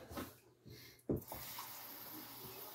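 Cups of water pour into a pot of homemade American goulash with a brief splashing gush and a hissy trickle, close by and fairly quiet.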